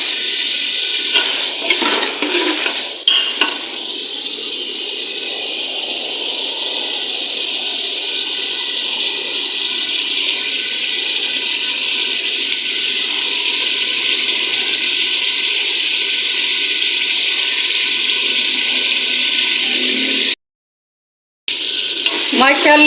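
Chana dal roasts in a pan, giving a steady, loud, rushing sizzle that runs continuously, with a few stirring knocks near the start and a brief silent gap near the end.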